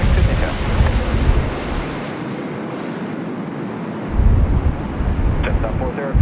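An Air New Zealand jet arriving on runway 25 at Sydney Airport in windy conditions, a loud rumbling roar with heavy wind buffeting on the microphone and voices talking over it.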